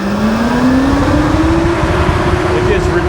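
A hot rod engine shifted into high gear, its tone climbing steadily in a loud, continuous drone that fills the whole stretch up close, with a rising whine layered over the rumble.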